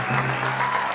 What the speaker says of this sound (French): applaudissements pour les gars de Cocody,